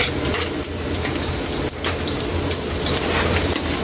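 Onions frying in a pan for a Filipino pork dinuguan, a dense, loud, continuous sizzle and crackle that holds steady throughout with no pauses.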